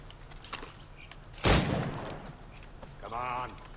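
A single sharp gunshot cracks during target shooting in the video game Assassin's Creed Rogue, followed by a fading tail and quieter background game sounds.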